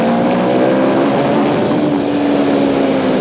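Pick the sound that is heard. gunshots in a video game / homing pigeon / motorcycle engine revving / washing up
motorcycle engine revving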